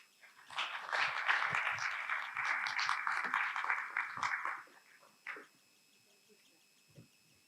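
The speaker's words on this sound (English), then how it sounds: "let's give him a huge round of applause" Audience applause fills a business talk venue, a dense, steady wash of many hands clapping for several seconds before thinning out to a few scattered claps.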